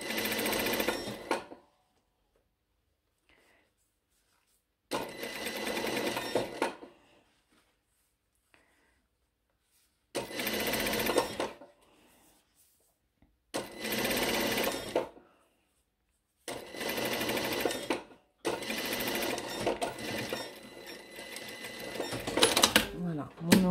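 A sewing machine stitches the hem of a blouse in five or six separate bursts of rapid running, each lasting a second or two, with quiet pauses between them.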